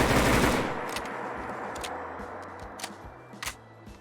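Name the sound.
assault rifle full magazine dump in the video game Fallout 4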